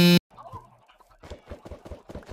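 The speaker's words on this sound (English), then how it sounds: "I go to my chicken pen. I have 2 chickens." Chickens in a pen in the Minecraft video game give a series of short, evenly spaced clucks after an opening burst, fairly close and clear with no talking.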